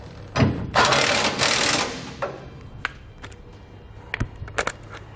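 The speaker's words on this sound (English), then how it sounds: "we can now snug it all down. Use a 3/4 inch socket for our carriage bolts." A socket wrench with a 3/4 inch socket ratchets carriage bolts tight on a trailer hitch receiver on a 2012 GMC Sierra: a dense burst of rapid clicking early on, then scattered sharp metallic taps, close and fairly loud.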